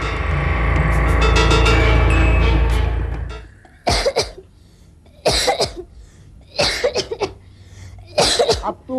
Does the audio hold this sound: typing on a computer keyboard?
no